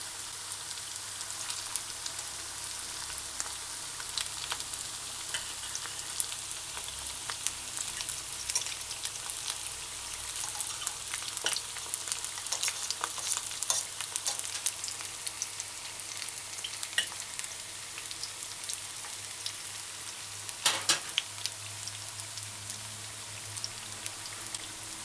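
Vegetable fritters fry in hot oil on a stove set to high, giving a steady, close crackling sizzle with scattered pops throughout and no talk.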